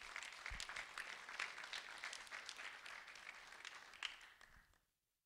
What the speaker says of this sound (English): a round of applause for Dejaneira de Jesus